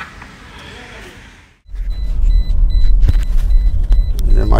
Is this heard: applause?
no